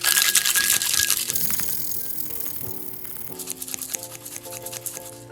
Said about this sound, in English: we're gonna know we're ready to go once we stop hearing the clicking of the ice